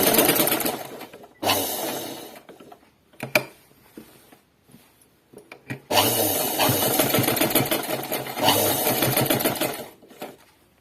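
A sewing machine stitches a collar-neck dress in bursts of rapid, close mechanical whirring, with short pauses between runs and one long stretch of continuous stitching.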